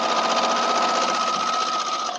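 A sewing machine runs a straight stitch on a log cabin quilt, a loud, steady, fast-pulsing mechanical whir heard close and uninterrupted, with no talking.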